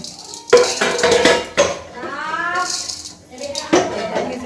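A big spatula scrapes and clanks against a pot of mutton pulao in several distinct knocks and rattles, with people talking over the stirring.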